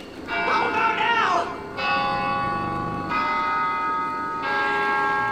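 A church bell rings in the video game Left 4 Dead 2, with loud sustained tolls that swell, decay and strike again several times. Brief voices are heard over it.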